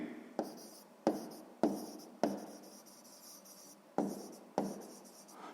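A pen writing on paper during a sixth-grade maths exercise, with a steady scratching stroke broken by several sharp taps as the pen lifts and lands, close and fairly quiet, with no talking.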